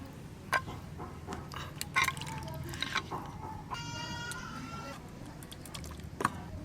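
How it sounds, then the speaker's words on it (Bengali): A little water goes into a tiffin box holding masala-coated hilsa fish with mustard oil, making a soft continuous trickle with faint drips and light clinks of the metal container, close and fairly quiet. "সামান্য একটু জল দেব"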